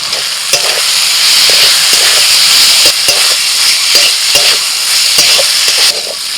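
Chicken pieces frying with garam masala and Kashmiri chilli powder, a loud close sizzle with rhythmic scraping and clanking as the spatula stirs the pan again and again.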